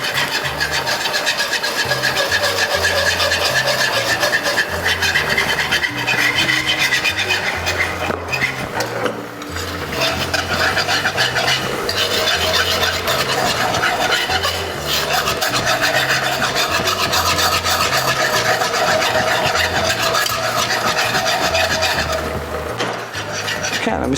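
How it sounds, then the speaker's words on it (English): A runny mixture is whisked as fast as possible in a bowl, producing a rapid, continuous scraping and rasping that stays loud and close throughout. "you want to whisk as fast as possible."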